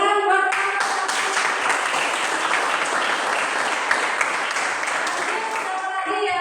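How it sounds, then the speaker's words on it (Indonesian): Classroom applause from students during a group presentation lesson, a dense, steady clatter of many hands sustained for several seconds at close range, with some voices mixed in. "Ya, tepuk tangan buat."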